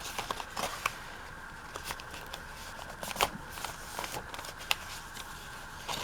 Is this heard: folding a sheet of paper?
yes